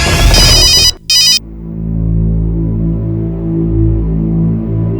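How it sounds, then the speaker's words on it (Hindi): A loud electronic phone ringtone warbles for about a second, breaks off briefly, resumes, then cuts out abruptly, leaving a low droning musical hum. "कौन है जो तुम्हें फोन कर रहा है बार बार?"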